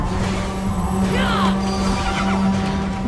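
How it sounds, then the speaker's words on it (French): Horse neighing in the video game Immortals Fenyx Rising, a loud close whinny with a wavering, descending cry over a steady game background hum. "J'ai fait apparaître un cheval"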